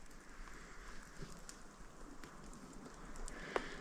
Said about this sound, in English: It is kind of raining.